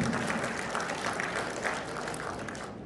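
Warm burst of applause from the assembled members at the 58th general meeting of a Korean Hwang clan association, many hands clapping steadily, then gradually tapering toward the end.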